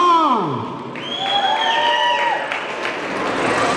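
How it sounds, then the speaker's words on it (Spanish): Audience at a tamborazo band performance applauding and whooping, a spread-out crowd clap and cheer following the fading end of the music, with shouted voices over it. "¡Plasma los aplausos, oigan!"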